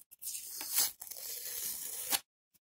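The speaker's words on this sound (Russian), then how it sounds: "мы убираем скотч" Adhesive tape peeled off a metal surface during metal etching makes quiet tearing and crinkling strips, two main pulls separated by a short pause, close and alone.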